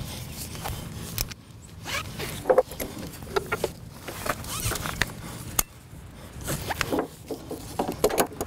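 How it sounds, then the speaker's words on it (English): Ratchet straps are cranked tight to tie down a Can-Am Spyder trailer load. Close, quick rasping clicks come in short uneven bursts with brief pauses between them. "Now that we have the ratchets on, we're gonna start tightening things up on both sides"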